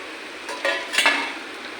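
Sieved puffed rice pours into a pan in two quick rustling, crackling bursts over a low background hiss.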